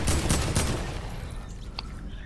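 Rapid SMG fire in Fortnite crackles in a quick cluster of loud shots near the start, then fades into quieter game ambience with a faint later pop.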